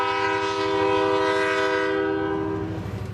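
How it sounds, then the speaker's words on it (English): A train blows a long, loud, steady horn while rolling past on tracks beside a house's front porch in northeast Kansas. The rumble of the cars continues underneath and eases slightly toward the end. "there might even be a train that comes through as we are speaking right now"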